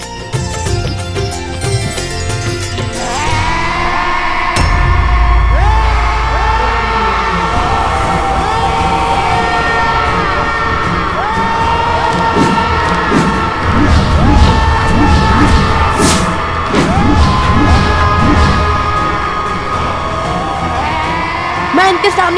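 Many voices scream and shout together over a loud dramatic battle-like score in a Hindi devotional drama, a continuous, dense chorus of cries with swelling music and booming impacts.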